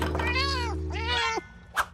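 A cartoon cat lets out two long, drawn-out whining meows one after the other over a low background hum, followed by a brief soft thump.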